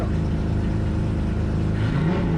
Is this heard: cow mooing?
no